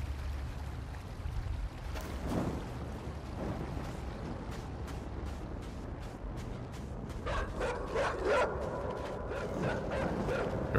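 Dogs in the video game Inside bark and yip from a distance over a constant low watery rumble, with a burst of sharper, quicker barks toward the end.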